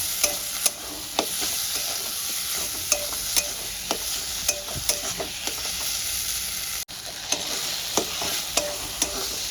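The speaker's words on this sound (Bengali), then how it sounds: "টমেটোটা দিয়ে ভালো করে মিক্স করে নেব যতক্ষণ না টমেটোটা সুন্দর মশলার সঙ্গে মজে যাচ্ছে ততক্ষণ পর্যন্ত আমি কষিয়ে নেব" Chopped tomato being sautéed with spices in a pan for a rohu fish curry, with a soft continuous sizzle broken by repeated sharp clicks and scrapes of a spatula stirring against the pan, close and without talk.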